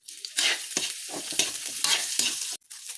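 Smoked fish (tinapa) sautés with garlic and ginger in a pan, giving bursts of loud, close sizzling broken by short scraping stirs, then a brief drop before the sizzle returns.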